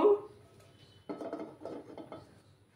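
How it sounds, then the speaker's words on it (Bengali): A frying pan set onto a gas stove gives a soft metallic clatter and a few scraping knocks, close but fairly quiet, with no talk. "প্যানটা বসিয়ে দেব"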